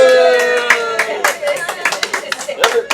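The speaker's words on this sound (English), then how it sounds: "Everybody applause for Matt." A crowd claps in welcome for winemaker Matt Fowles at a wine tasting at Vintage Wine Cellars in Tampa, Florida, loud and close, mixed with a voice talking over the applause.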